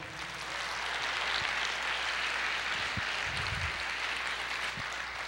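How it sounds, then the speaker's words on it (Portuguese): A church congregation claps together in a broad, sustained wash of applause, even in level throughout, with a few low thumps beneath it. "Você pode aplaudir o Senhor?"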